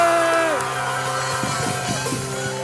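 An audience at the Sidaction 2022 charity concert cheers and whoops loudly, with sustained crowd noise and scattered shouts throughout.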